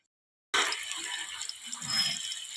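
Beef tikia patties drop into hot oil in a frying pan, setting off a sudden, close, hissing sizzle that continues steadily with faint crackles.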